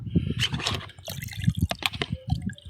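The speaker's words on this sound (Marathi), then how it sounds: "त्याच्यामध्ये आपण आता पाणी वटणार आहोत" Water sloshes and splashes into a pesticide spray mixture container for sugarcane in short bursts, with some clinking and liquid movement close by.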